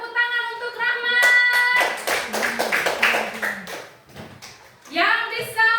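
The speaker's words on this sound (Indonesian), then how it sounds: "Iya, beri tepuk tangan untuk Rahmat." In a classroom during a fractions lesson, students give a round of hand claps for a classmate named Rahmat. The crisp, closely spaced clapping lasts a few seconds, with a voice speaking before it and again just after.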